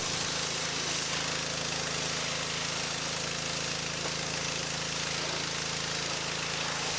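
A Ryobi 3,200 PSI battery-start pressure washer fitted with the white tip sprays steadily, giving a loud, unbroken hiss of water over a constant motor drone for the whole stretch, with no voices.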